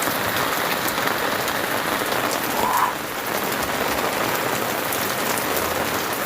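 Heavy rain pours down steadily at a street food vendor's stall, a dense, loud hiss of drops drumming on surfaces that stays constant throughout, with no voices.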